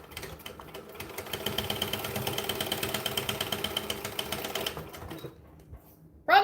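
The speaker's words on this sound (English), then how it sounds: "So now we'll just top stitch it again." A sewing machine top-stitches a bag, a fast even mechanical chatter running for about five seconds before stopping, close and clear with no talk over it.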